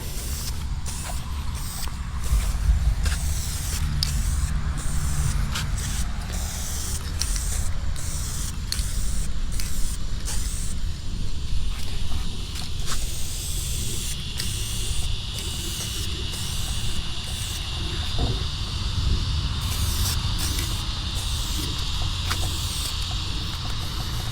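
Spray gun laying another coat of paint on truck parts for a supercharged 426 HEMI Dodge Dakota build, a steady hissing spray running continuously and fairly close, with mechanical creaks underneath and no talking.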